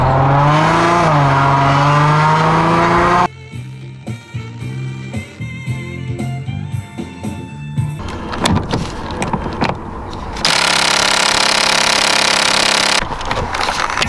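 A Dodge Charger's engine and exhaust rumble as the car pulls out onto a road, the sound loud and close, swelling into a stronger surge partway through, with no talking over it.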